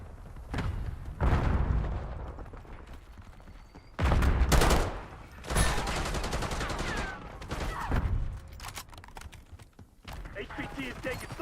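Video game gunfire crackles in repeated bursts and volleys alongside military-style radio chatter about protecting a high-value target, with voices talking over the shooting throughout.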